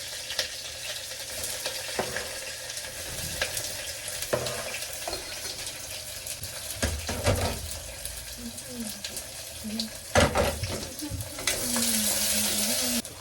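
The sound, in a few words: green chillies and onion frying in a pan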